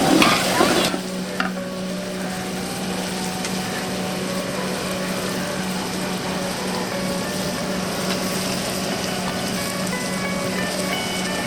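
Onions sautéing in hot mustard oil while mutton is being cooked, a loud continuous sizzle with a brief clatter at the start and a steady hiss and stirring throughout, no voices.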